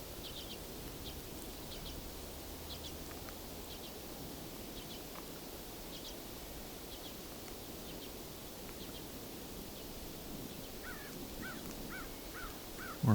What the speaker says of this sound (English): More crows. Actually, a flock of about 60 crows near here.